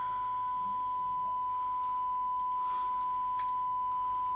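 A steady sine-wave test tone holds one pure, unbroken pitch throughout, played while an old Ferguson set is being serviced, with faint background hiss and small crackles beneath it.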